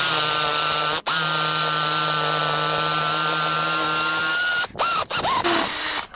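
A power drill with a 16mm DeWalt bit bores a hole for an antenna mast bracket, whining at a steady high pitch for several seconds, then slowing and revving in short bursts before stopping, loud and close.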